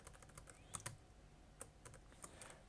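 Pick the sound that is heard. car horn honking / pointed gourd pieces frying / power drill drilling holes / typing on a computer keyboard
typing on a computer keyboard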